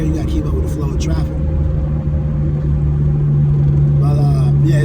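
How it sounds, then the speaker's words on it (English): Steady road rumble inside a moving car keeping pace with traffic, a low continuous engine and tyre drone throughout, with passing-vehicle swells at the start and near the end. "you gotta keep up with the flow of traffic"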